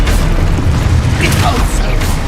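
A Confringo spell bursts in Hogwarts Legacy, a loud, booming blast with a deep rumbling low end and crackling pops, close and full, with a voice speaking over it.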